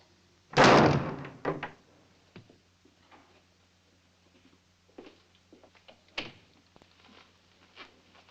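A back door slams once with a sharp, loud bang, followed by faint rattles, a softer knock or two and quiet room noise.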